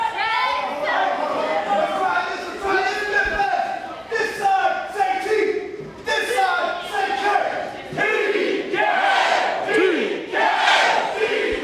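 A wrestling crowd at a hardcore match roars and chants in loud sustained waves, with rising and falling cheers from a large audience nearby, and a voice calls out over it.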